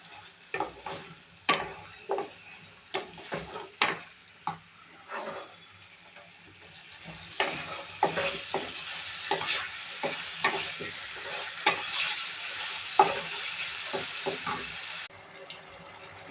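Potatoes are stirred into spice masala frying in oil in a pan, giving a soft sizzle under a series of sharp clacks and scrapes from the spoon against the pan, repeated in an irregular rhythm.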